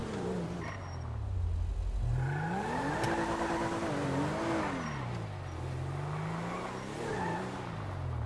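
A car engine revs in Grand Theft Auto 5, its pitch climbing and dipping in repeated swells as the vehicle accelerates and eases off, loud and close, with some tire squeal mixed in and no talking.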